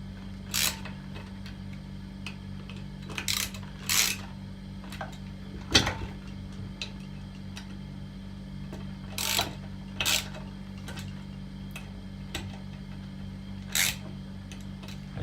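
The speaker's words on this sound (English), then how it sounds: "we'll do up the locking grub screws again" Locking grub screws on a Skyline R32 short shifter are tightened by hand. Small scattered clicks and ticks sound close over a steady low mechanical hum, with brief gaps between them.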